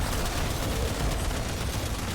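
Warframe gunfire from an enemy Rhino Spectre, heard as a dense, continuous barrage of shots filling the short stretch without pause.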